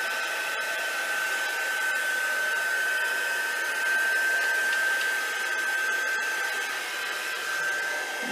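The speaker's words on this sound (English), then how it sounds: "I can chase this around a little bit with my heat tool too and kind of direct where I want some of these puddles to move" A handheld heat tool blows across puddles of alcohol ink, a steady close whirring blower hum with a thin constant whine that holds almost unchanged throughout.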